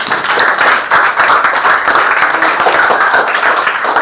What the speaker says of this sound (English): Give him a big round of applause once again.